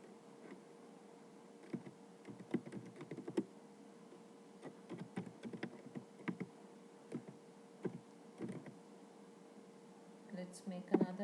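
Keystrokes on a computer keyboard while entering an address for a mail merge, heard as quiet irregular clicks in bursts, close by, over a steady low background hum, with no talk.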